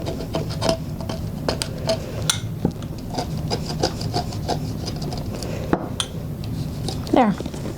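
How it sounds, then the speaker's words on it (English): Resin being scraped off the edges of a wine glass, a series of short dry rubbing and rasping strokes repeating at an uneven rhythm, close and moderately loud, with a faint squeak near the end. "scrape off the edges of the resin, wherever that is"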